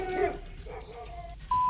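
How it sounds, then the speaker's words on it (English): Neighborhood dogs barking near bears in a residential area, a close, fairly loud run of barks and whimpering yips over a steady background, with no talk. "neighborhood dogs frighten the bears"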